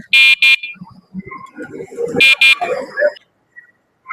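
The electric horn on a bicycle converted with an added battery and motor gives two loud, shrill double beeps, one at the start and another a couple of seconds later, with someone talking nearby between them.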